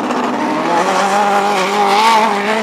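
Race cars roar around the KRP oval during a grand opening exhibition race, a loud sustained engine drone with rising and falling pitch as the field spreads out, no talk over it.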